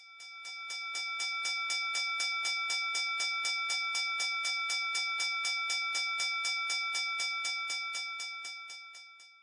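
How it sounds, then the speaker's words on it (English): A stock market closing bell rings in a long run of rapid, evenly spaced metallic strikes, bright and sustained, swelling in and fading out at the end with no talk over it. "close to the closing bell"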